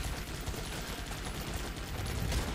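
Gunfire in the video game Guns Up, a thick, continuous rattle of many overlapping shots at moderate loudness, with no voices heard.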